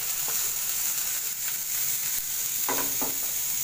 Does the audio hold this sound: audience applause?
no